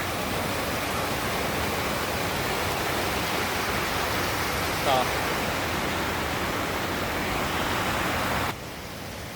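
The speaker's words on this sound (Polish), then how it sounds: "Jest wyprawa przez potok." A mountain stream in a valley rushing steadily while someone wades across it, a loud, close, continuous broadband wash of flowing water with no let-up, dropping slightly in level near the end.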